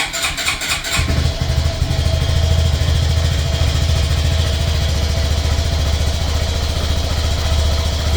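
A stunt motorcycle engine fires up after a brief cranking burst, then settles into a steady, loud, close idle that runs continuously with a low rumbling throb.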